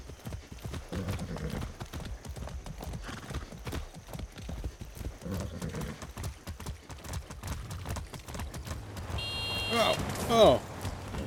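Steady clip-clop of horse hooves trotting in a repeating rhythm in the video game Far Cry 6, with a brief whinny near the end and faint background hum.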